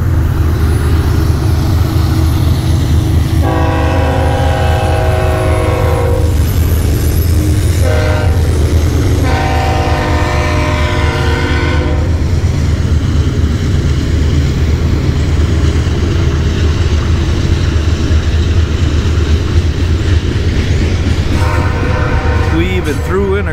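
A Greenhopper train rumbles past up close with a steady low roar, its horn sounding in several long blasts over the clatter.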